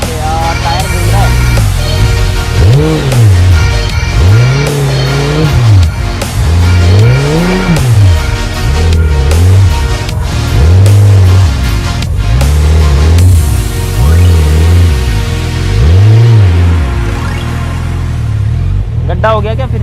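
A Suzuki Hayabusa motorcycle revs hard in repeated rising surges while its rear tyre spins in loose soil, with people talking and shouting over the engine throughout.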